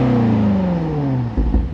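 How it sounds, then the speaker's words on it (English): A 2020 BMW X5M Competition's exhaust revs up loud and close, a deep steady drone sweeping smoothly downward before a couple of sharp blips near the end; no one talks over it. "let's take a listen to that exhaust"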